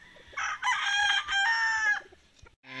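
A gamefowl rooster, a gray brood cock on a Filipino farm, lets out one loud, close, drawn-out crow followed by a short clucking call.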